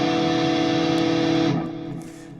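Distorted electric guitar power chord in a hard rock or heavy metal style, one thick sustained chord ringing loud and steady for about one and a half seconds, then the sound dropping to a quieter decaying tail.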